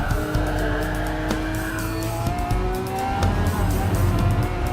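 A Lamborghini engine in a racing video game, revving and shifting with a continuous loud whine that rises and drops in pitch, with tire noise near the end.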